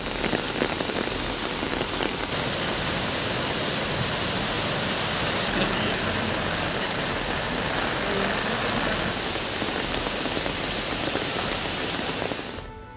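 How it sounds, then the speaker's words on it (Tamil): Heavy rain and floodwater rush across the Aroor–Salem main road below the Yercaud hills, a loud, continuous roaring wash of water and pattering drops that holds steady for about thirteen seconds before tapering off. "ஏற்காடு மலைப்பகுதியில் காட்டாற்று வெள்ளம் ஏற்பட்டு அரூர் சேலம் பிரதான சாலையில் வெள்ளம் பெருக்கெடுத்து ஓடியது."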